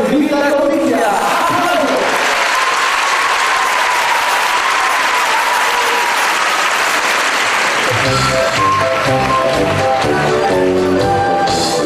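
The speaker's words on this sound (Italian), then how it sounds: "E finalmente ha inizio l'atteso spettacolo, fra gli applausi scroscianti dei genitori seduti in sala" Loud, sustained applause from parents seated in a school theatre hall as a primary school show begins, continuous clapping with crowd cheers and then music rising beneath it.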